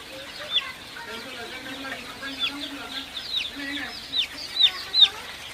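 About 1,500 Sonali hybrid chicks in a brooder peep in high, short chirps, scattered and overlapping, with a low murmur of voices underneath.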